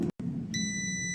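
An air fryer signals the end of its five-minute cook cycle for potato wedges with a steady electronic beep tone that starts partway through and holds, over a low background hum.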